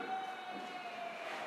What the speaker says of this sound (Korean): 사이렌이